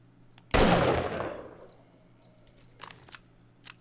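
A single loud gunshot in 7 Days To Die, sharp and close with a decaying tail, followed by a few faint clicks and small knocks.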